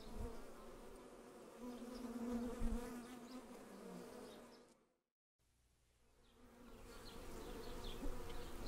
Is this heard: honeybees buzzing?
yes